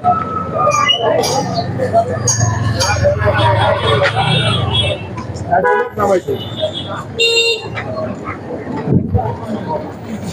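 Traffic jam near Bandura bus stand in Nawabganj, Dhaka, with repeated car and bus horns honking at close range, loud toots overlapping a busy engine rumble while someone talks.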